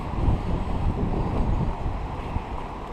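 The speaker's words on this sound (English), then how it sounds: "It's getting windy." Gusty wind buffets the microphone outdoors by Orrs Creek in Low Gap Park, a steady, fairly loud low rumble that rises and falls with no voices over it.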